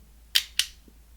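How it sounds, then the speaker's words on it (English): Two crisp mechanical clicks from a Kodak Instamatic 100 camera as the shutter is released, close up and quiet, followed by a faint small tap. "After that, you could release the shutter."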